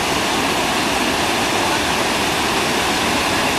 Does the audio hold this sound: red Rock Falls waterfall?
yes